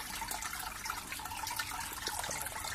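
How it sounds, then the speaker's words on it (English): Water trickles and splashes steadily in an outdoor aquatic plant set-up with potted colocasia and caladiums, a continuous bright babbling flow with no voices. "You can just hang it in this place where the water trickles and all."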